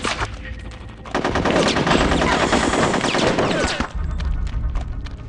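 Rapid bursts of machine-gun fire and gunshots from the video game Conker's Bad Fur Day, loud and dense for about three seconds, with quieter in-game sounds before and after.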